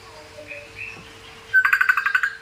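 A pet parrot mimics a phone ringtone at home, first with a few soft whistles, then a loud, rapid warbling trill that pulses steadily for about a second near the mic.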